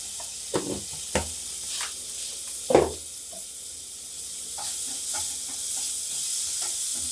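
Potatoes sauté in a pan with rock salt, a soft steady sizzle broken by several sharp scraping knocks of a spoon stirring against the pan, close by, with no talking.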